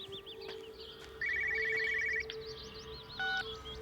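A telephone rings in the video game Everybody's Gone to the Rapture: one long electronic trill and then a short second burst, clear and fairly close, over a quiet ambient backdrop with chirping birds.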